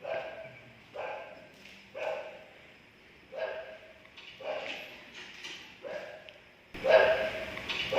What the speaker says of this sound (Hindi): आपने जैसे कदम आगे बढ़ाया तो कुत्तों की आवाज़ें आनी शुरू हो गई।